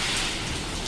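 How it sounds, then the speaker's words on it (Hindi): Heavy stormy rain pounds down during a violent storm that is knocking over flower pots and blowing open a gate, a steady loud wash of noise that fills the whole second with no talking. "इतनी तेज़ तूफान वाली बारिश पड़ रही है ना"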